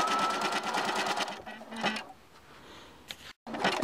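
A home sewing machine zigzag stitches along a leggings waistband, close rapid mechanical chatter in short runs that pause and restart.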